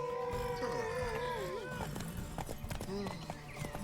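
Hooves clip-clop at a gallop in The Witcher 3 game, a rapid rhythmic pattern with a whinny-like rising tone, heard under voices talking.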